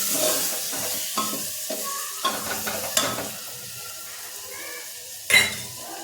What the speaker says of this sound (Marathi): टोमॅटो छानपैकी परतवून घ्यायचे